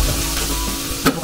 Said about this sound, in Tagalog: Gisa na tayo.